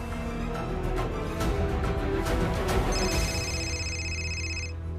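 A telephone rings in a Hindi TV drama scene, its repeating electronic tone sitting over a busy background of music and room sound, fairly close and steady before cutting off near the end.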